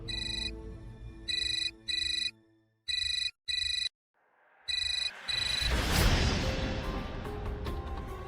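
A phone ringtone plays in repeated short electronic bursts with brief gaps, then fades under a rising rushing swell of noise.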